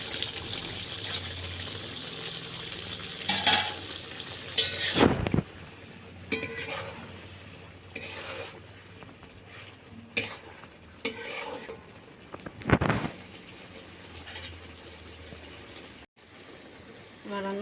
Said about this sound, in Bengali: এখন আমি মাছটা দিয়ে দিচ্ছি।